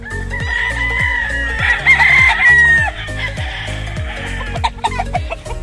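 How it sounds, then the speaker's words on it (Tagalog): Chickens cluck in rapid, repeated bursts close by while a rooster crows loudly through the middle, with more clucking and scattered calls continuing around it and no talk. "Tingnan natin yung mga manok."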